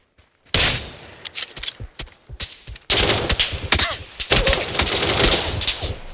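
Rapid gunfire in the battle royale shooter PUBG, loud close bursts of sharp cracks starting after a short silence, then a sustained volley of overlapping shots with brief gaps.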